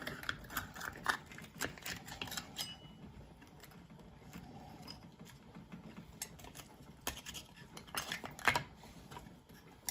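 A hot baked oyster shell being pried open, with faint, quiet clicks and scraping taps of a utensil against the shell, scattered irregularly across the stretch at close range.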